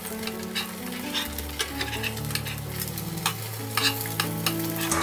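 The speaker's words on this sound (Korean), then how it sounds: "뜨거운 팬에 식용유를 두르고 다시 약불로 해놓은 다음에 이렇게" Aged kimchi fries in cooking oil in a hot pan over low heat, giving a continuous crackling sizzle broken by short spatula scrapes and taps, close and alone with no voices.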